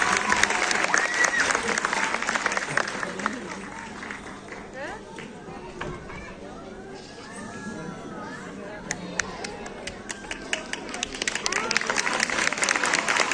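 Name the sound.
audience applause welcoming guitar students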